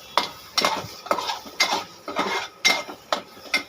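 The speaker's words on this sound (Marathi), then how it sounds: "परत त्याला थोडंसं असं परतून घ्यायचं आहे." Chicken sautés in oil in a pan, with close, rhythmic metallic scrapes and clinks of a spoon stirring about every half second, loud and without talking.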